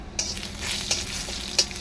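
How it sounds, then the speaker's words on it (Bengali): Lentils frying in oil in a hot wok give a steady close sizzle, with a few sharp scraping clicks as they are stirred. "তেল দিয়ে একটু ডালটা ভাজবো।"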